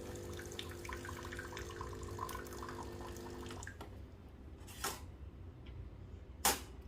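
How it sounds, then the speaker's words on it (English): Hot water runs steadily from a tap into a cup for a few seconds, then stops, leaving a couple of sharp clicks and clinks in a quiet room. "I'm just going to run some hot water"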